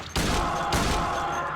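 Gunfire in the video game Silent Hill 2: two loud, broad blasts about half a second apart, each with a long noisy decay, close and filling the soundscape without talk.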